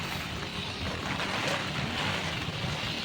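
Strong typhoon Uwan wind roars with rain in a continuous loud broadband rush, buffeting the microphone outdoors without letup.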